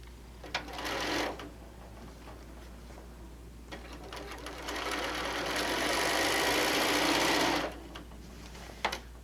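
A sewing machine stitches a quarter-inch seam across a Foxfire-pattern panel quilt: a short close whirring burst, then a longer steady run of rapid stitching that stops abruptly.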